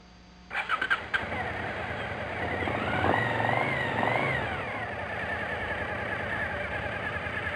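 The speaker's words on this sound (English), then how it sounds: "Now start the engine and let it idle." A Suzuki TL1000S motorcycle cranks briefly with a few starter pulses, then catches and settles into a steady, rumbling idle close by, rising slightly before evening out.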